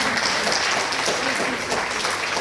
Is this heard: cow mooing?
no